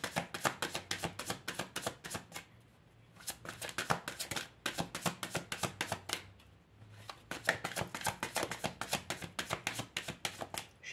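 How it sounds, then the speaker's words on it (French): Tarot cards are shuffled close by in quick rhythmic bursts of soft papery clicks and flutters, with two short pauses between rounds and no talking. "Je suis désolée si les cartes elles font un peu de bruit quand..."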